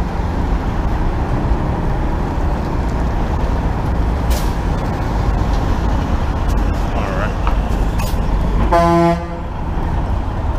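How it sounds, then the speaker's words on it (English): A car horn honks in a loud burst near the end amid steady city traffic roar on Fordham Road in the Bronx, New York City, heard from an electric bike ride, with other vehicle noise throughout. "People already honking."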